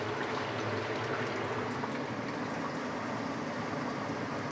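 Pork pieces shallow-frying in oil over low heat make a steady, even crackle and hiss that continues without pause from start to finish.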